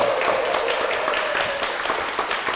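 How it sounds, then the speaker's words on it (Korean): A church congregation breaks into steady, even applause that fills the room for a couple of seconds. "박수로 부탁드립니다."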